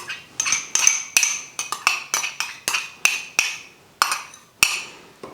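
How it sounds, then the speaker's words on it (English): A spoon stirs through a bowl of dressing with dissolving brown sugar, made for a rice noodle salad, producing about a dozen sharp metallic clinks against the bowl in a quick, uneven rhythm, close and clear with no talking. "we just stir a little bit around with a spoon"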